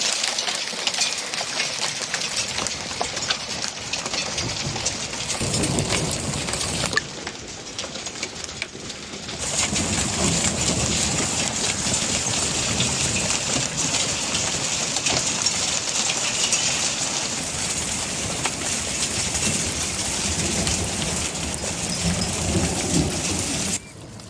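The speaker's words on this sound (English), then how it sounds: "If for some reason Snapdragon is just standing in the hail." A springtime storm pelts a backyard with hail, a steady dense clatter on surfaces with rumbling thunder rolling underneath and a brief lull partway through.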